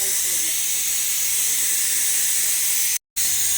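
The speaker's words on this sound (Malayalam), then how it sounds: "അരി ഇട്ടിട്ട് വിസൽക്ക് വെയിറ്റ് ആക്കിക്കൊണ്ട് വന്ന് 4 വിസിലായി" Pressure cooker releasing steam while rice cooks, a steady loud hiss held throughout with one brief break near the end, no talking over it.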